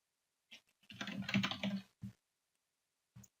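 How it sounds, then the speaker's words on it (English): Bursts of typing on a computer keyboard, a quick run of close clicking keystrokes followed by a few isolated taps, with quiet gaps between them and no talking. "it's going to say hello the minute I start typing."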